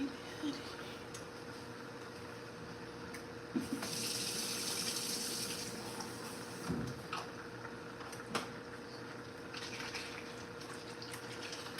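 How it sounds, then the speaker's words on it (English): Water pouring into a bottle used for garlic, a faint trickle and splashing fill that rises into a steadier gush partway through, heard alone at low level. "I put water in stuff and shake it out to get all everything up out of there"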